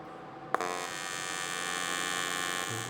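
Aluminum fillet joint being TIG welded: the arc strikes with a sharp snap, then a steady, close electrical buzz holds to the end with no talking.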